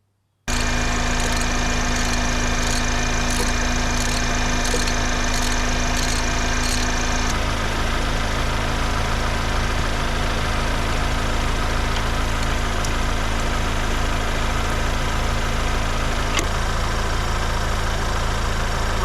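Ford Bronco Sport engine idling steadily with the vehicle running during a transmission fluid change, a close, even, continuous mechanical hum with no talk.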